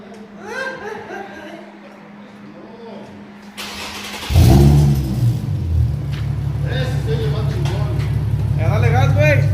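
An Infiniti G37 sedan with a full straight-pipe exhaust and high-flow resonator bursts into a loud, deep rev that holds as a steady rumble, with a voice speaking over the quieter idle before it.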